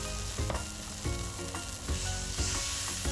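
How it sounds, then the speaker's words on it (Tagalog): Pork sears in a pan for binagoongan with a loud, dense sizzle, broken by several rhythmic stirring or scraping strokes and a faint tonal hum beneath, no one speaking. "Then hayaan lang natin itong ma-sear ng konti."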